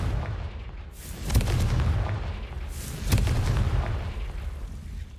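Confringo fire spell cast in Hogwarts Legacy, two loud booming blasts about two seconds apart, each a sharp crack swelling into a rumbling roar over a steady low background.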